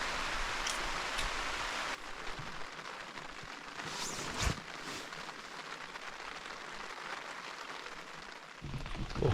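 Steady rain drums on a tent during a solo trip, a dense, continuous close hiss with a brief louder patter midway and no voices.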